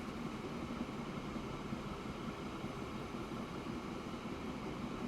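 A steady rumbling train running in the video game Transport Fever 2, a continuous even drone at low level with no breaks and no talk.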